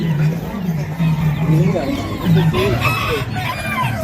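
Chickens cluck and a rooster crows nearby, with several birds calling over one another in a busy farmyard, and a voice speaks in the background.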